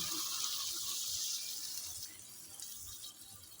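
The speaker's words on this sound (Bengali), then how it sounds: "এখন আমি এর মধ্যে দিয়ে দিচ্ছি পরিমাণ মতো পানি" Water being poured into a pan of dried-fish and onion-flower curry, a steady soft hiss and trickle that gradually tapers off, faint and unaccompanied.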